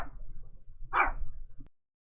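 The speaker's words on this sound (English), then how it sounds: "Hold on a minute, dog's barking." A dog barks once, close by, a single short bark in an otherwise quiet room that cuts off abruptly.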